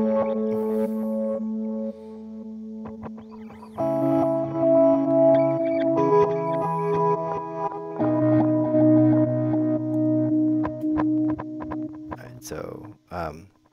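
Chase Bliss Audio Mood Mk II pedal with the MISO switch engaged, producing sustained harmonic tones that shift in layered chords, with echo and reverb-like smearing, ending in a brief burst of noisy texture.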